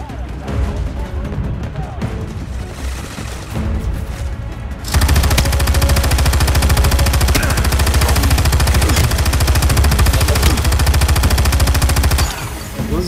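Machine gun in the Battleship video game, opening with game sounds and talk before a loud, continuous automatic burst that holds steady for several seconds and then stops abruptly.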